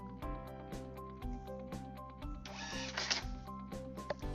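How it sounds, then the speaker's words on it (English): A restaurant point-of-sale receipt printer prints a clock-in slip with a rapid, regular ticking chatter and a brief louder buzzing burst midway, heard close and without speech. "It'll even print the slip to the receipt printer."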